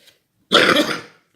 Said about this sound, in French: J'ai toujours ma toux, il n'y a rien à faire, ça ne veut pas partir